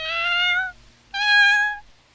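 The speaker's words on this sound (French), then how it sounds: "Oh, un chat noir." A black cat gives two clear, drawn-out meows separated by a brief pause, each loud and close with no other sounds around them.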